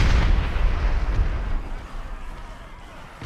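A cannon fires canister shot in a PC strategy battle set among Scottish clansmen, cavalry and pirates: a loud, booming blast that opens the clip and rumbles on, with a further sharp report right at the end.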